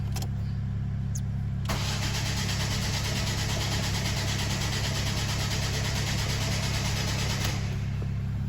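A Ford Focus with an intermittent no-start fault cranks without firing, heard as a loud, steady, rhythmic starter-motor whir lasting several seconds between brief clicks, with no engine catching.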